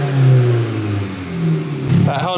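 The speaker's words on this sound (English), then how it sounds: "Give it a rev. Big one" An engine in a BMW 125i fitted with an upgraded exhaust revs loudly up close, the note rising and falling in a couple of blips with a brief harsh crackle at the end, voices faintly underneath.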